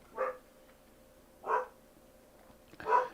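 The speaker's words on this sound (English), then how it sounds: "And my dog decides to go crazy in the background." A dog barks indoors in the background, three separate, evenly spaced barks at moderate volume against a quiet room.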